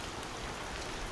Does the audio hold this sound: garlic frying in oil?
no